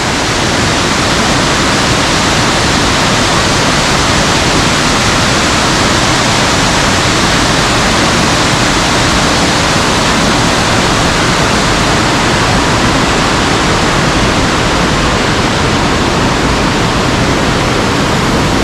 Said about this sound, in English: So we made it to Big Laurel Falls